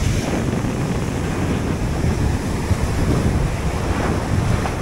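Rough sea surf crashes and churns continuously on the shore, mixed with heavy wind buffeting the microphone, loud and close.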